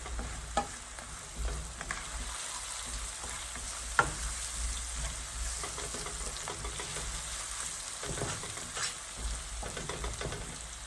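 Meat pie filling sizzles steadily in a non-stick pan, a continuous crackling hiss with occasional louder pops and scraping stirs, no voices.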